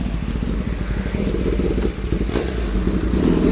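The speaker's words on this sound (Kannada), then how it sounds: "ಬಂತು ಗಾಡಿ ವಾಪಸ್." Kawasaki ZX10RR sportbike engine rumbling steadily as the bike rides back in, a continuous loud low drone with slight rises in revs throughout.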